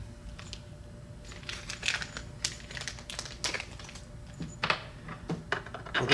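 Shorter screws set in place during installation of an OEC 9800 upgrade kit, giving a run of small irregular clicks and taps, fairly close, over a low steady hum.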